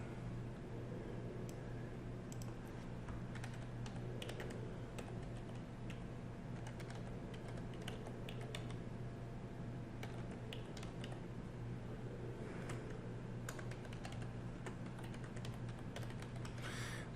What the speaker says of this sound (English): that obnoxious keyboard in the background